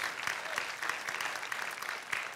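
A church congregation claps together in steady, moderately loud applause that fills the whole moment, with no voices standing out.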